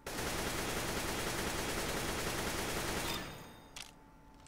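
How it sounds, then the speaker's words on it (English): AK rifle firing in the video game CS:GO, a loud sustained burst of rapid automatic shots for about three seconds, then stopping, with a faint tail and a small click afterward; no talking. "every time I shoot the AK, I should know where the bullets are going to go"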